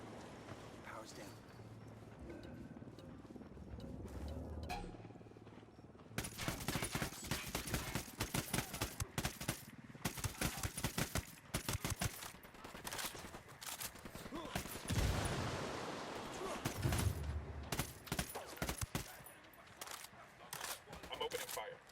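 Gunfire in the open-world shooter Ghost Recon Wildlands: dense bursts of automatic fire crackle over roughly the second half, loud and sustained, with voices talking beneath the shooting.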